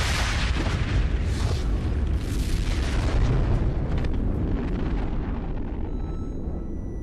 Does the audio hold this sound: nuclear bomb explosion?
yes